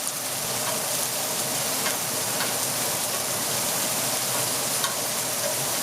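Shrimp fry in hot, sizzling oil in a pan at home, a steady, dense crackle and hiss that stays close and loud throughout with no pauses.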